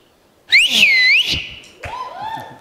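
Person whistling on a comedy stage in appreciation, a loud sliding two-note whistle followed by a softer rising whistle, with light thumps and no speech.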